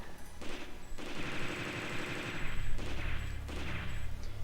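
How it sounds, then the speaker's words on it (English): Rapid gunfire from a machine gun in the Mega Man Legends 2 video game, a dense continuous burst with short breaks that rattles on steadily for several seconds, with game effects layered underneath and no talking. "I'm not even sure if the machine gun is doing damage."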